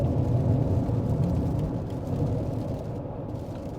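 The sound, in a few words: heavy rain hitting a car while driving on the highway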